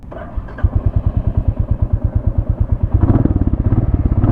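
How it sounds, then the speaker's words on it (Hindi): A 2025 Royal Enfield Classic 350 motorcycle engine idling up close with a rapid, throbbing exhaust pulse that grows louder and faster near the end as it is revved. "वाव वाव, एग्जॉस्ट साउंड बहुत अच्छा है"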